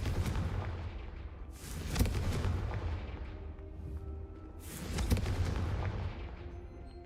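Booming magical blast of the Confringo spell in the Hogwarts Legacy video game, two heavy explosive bursts a few seconds apart over a continuous low rumbling game backdrop.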